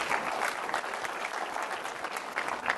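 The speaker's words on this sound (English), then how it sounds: "The round of applause for the contestants as well as the judges." An audience applauds contestants and judges at a competition, a dense, steady wash of many hands clapping that stays loud and even throughout, with a few sharper claps standing out near the end.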